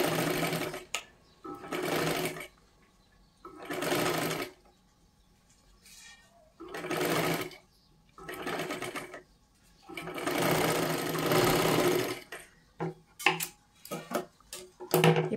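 A sewing machine runs a double line of stitching on a three-piece princess blouse, in several loud, steady bursts of whirring separated by short pauses, with light clicks between runs.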